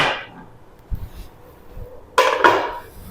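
A pressure cooker is set down and handled on a kitchen stove, giving two sharp metallic clanks close by near the end after a quiet stretch with faint shuffling.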